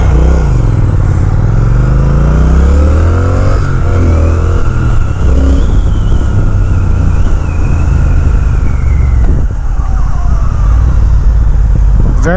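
Engine and exhaust of a 2020 Triumph Speed Twin motorcycle while riding, a loud steady drone with rising and falling revs through gear changes, wind roar underneath, no talk.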